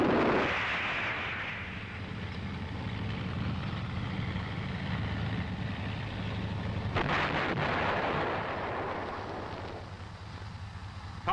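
Main gun of an M551 Sheridan armored reconnaissance assault vehicle firing, a heavy low boom with a long rumbling roll that lingers across the clip, with a second sharp blast partway through.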